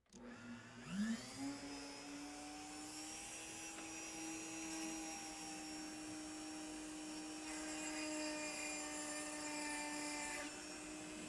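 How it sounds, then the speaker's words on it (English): A Dremel rotary tool spins up to a steady high-pitched whine while cutting on a window lock, holding a constant tone with faint grinding that roughens slightly later, with no talk. "We'll go ahead and use the Dremel this time, since some of you may have a Dremel."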